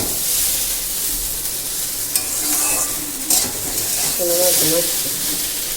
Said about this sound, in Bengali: আমি এই যে চাউমিন বানাচ্ছি